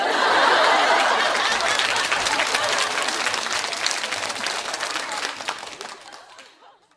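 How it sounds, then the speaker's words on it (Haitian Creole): A crowd at a baby shower breaks into loud applause that starts at full strength, then gradually thins and fades out, with a little laughter and chatter mixed in. "On bat un gros bravo pour Ticholine."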